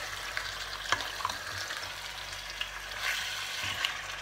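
Turkey strips sizzle steadily as they are seared in a hot pan, with occasional scraping and clinks as they are stirred, no voices.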